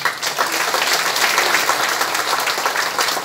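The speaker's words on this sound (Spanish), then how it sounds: "Pues así los recibimos con ese cálido aplauso también." Warm, steady applause from an audience welcoming officials at the inauguration of a new police station, a dense continuous clapping that stays loud throughout without a break.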